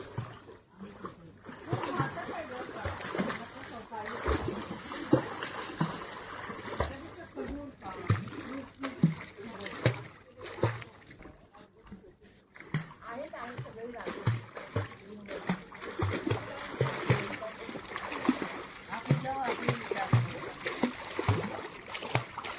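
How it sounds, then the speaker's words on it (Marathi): Water splashes and churns continuously as legs kick while someone floats on a tube at the sea near Alibaug, with people talking throughout over the irregular splashing. "मारू दे काय, ते पूर्ण पाणी उडवते."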